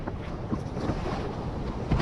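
A boat pounds through a bumpy ride on the Atlantic Ocean, with a continuous low rumble of hull and water and heavy wind buffeting the microphone throughout.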